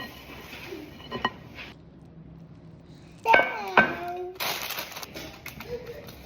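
Oat bar mixture stirred in a metal egg pan, giving a few sharp scrapes and clinks of spoon on metal with brief rustling, close and fairly clear, separated by quiet stretches.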